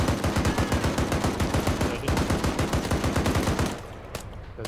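Rapid machine-gun fire in the Arma 3 military game at night, a loud continuous burst of evenly spaced shots that goes on for almost four seconds before cutting off into quieter background.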